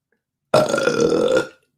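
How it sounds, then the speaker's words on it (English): A single loud, close burp, about one second long, rumbling and voiced, set against silence. "Hear my belch."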